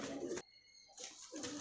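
Pigeons kept for bathing, several hens among them, give soft cooing calls in short bursts with a brief quieter gap in between, close by and with no talk over them.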